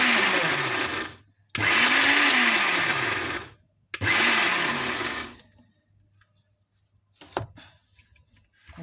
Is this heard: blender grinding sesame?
yes